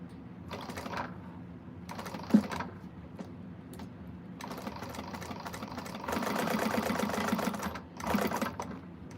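A sewing machine stitches a bag seam in short bursts of mechanical whirring, separated by pauses, with a longer continuous run near the end; close and fairly quiet, no talking.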